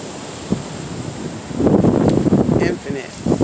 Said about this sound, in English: Seafoam. Ocean. Waves. Water.